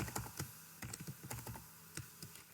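Quiet, close typing on a computer keyboard while entering Maxima code: uneven runs of light key taps with short gaps, heard alone without talking.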